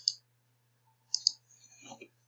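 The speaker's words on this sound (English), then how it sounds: "I'm sorry if you can hear my clicks on my keyboard" Computer keyboard keys click a few times in short, sharp bursts, close and fairly quiet, with a soft murmur of voice following.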